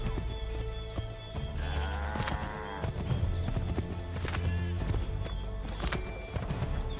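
Horse hooves clip-clop steadily in Assassin's Creed III, with an occasional whinny. The hoofbeats sit over a dense bed of game sound and music.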